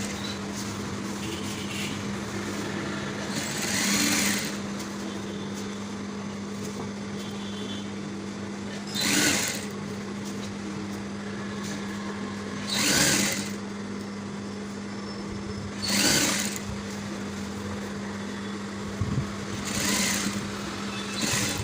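Sewing machine stitching a waistcoat lining, running under a steady motor hum with a constant low whir, punctuated by several short bursts of louder, brighter stitching.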